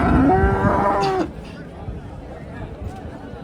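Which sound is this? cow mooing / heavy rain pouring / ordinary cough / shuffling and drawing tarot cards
cow mooing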